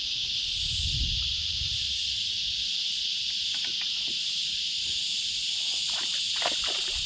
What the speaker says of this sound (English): You can probably hear the cicadas in the background here.